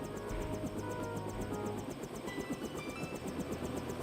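Helicopter in the video game Deus Ex, a rapid rhythmic rotor thumping over a steady whining engine hum, continuous and moderately distant, without talk.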